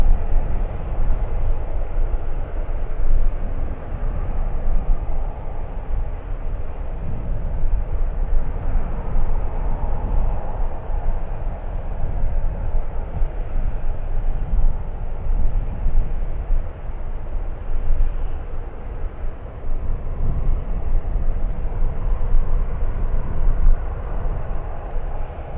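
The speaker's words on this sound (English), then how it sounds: "757 is lining up on 28 left" A Boeing 757 airliner lines up on runway 28 left at SFO, its engines giving a steady, broad, distant roar that holds evenly throughout with no voices over it.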